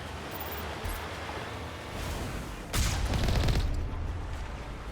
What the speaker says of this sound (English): The anti-aircraft gun. That's shooting at the Normandy.